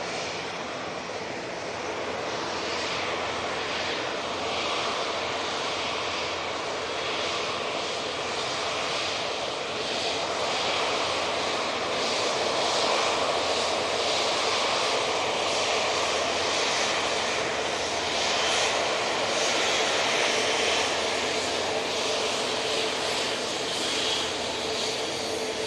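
Passenger aircraft at Manchester Airport, a sustained jet engine roar that stays steady and close, building slightly in the second half without any talk.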